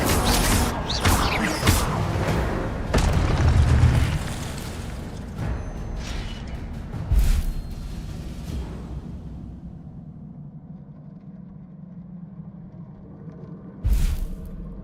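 An Incendio fire spell is cast in a video game: loud whooshing, crackling bursts with heavy low impacts early on, easing into a lingering rumble, with one more sharp burst near the end.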